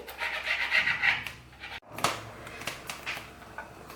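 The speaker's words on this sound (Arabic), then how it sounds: "انا ناخذ الكبيده ديالي غنحاول نقطع هكا مكعبات صغيره" A knife cutting raw liver into small cubes on a board makes close, soft scraping and rubbing strokes, with a brief pause before a series of lighter taps and cuts.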